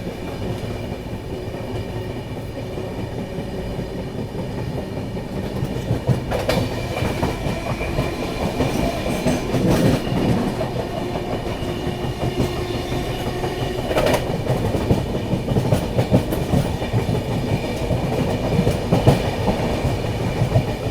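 Barauni–New Delhi Clone Special train running at about 130 km/h, a loud continuous rumble and rattle of the coaches with rhythmic clickety-clack of wheels over rail joints, heard from on board and building slightly as it speeds up.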